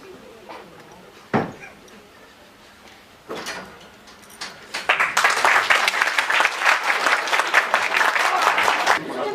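An audience at a staging of the Hindi play Court Martial breaks into applause. A few stray claps and knocks come first, then dense, steady clapping builds and fills the hall for several seconds.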